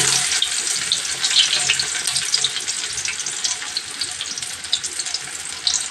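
Two onions drop into hot oil and fry with a loud, steady hiss and crackle, close up and continuous with no talk over it.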